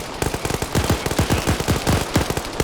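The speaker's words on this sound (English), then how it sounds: "I cannot hear you over the gunfire" Video game gunfire rattles in rapid automatic bursts during a competitive online match, dense and continuous at moderate volume, with no voices.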